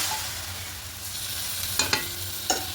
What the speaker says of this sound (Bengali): খুব ভালো করে একটু মিশিয়ে নেব সব কিছু